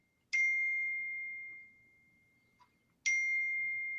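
Two bright electronic dings from a malfunctioning phone whose phone component had been disconnected, each a sharp struck tone with a long fading ring, the second arriving about three seconds after the first over a faint low room murmur.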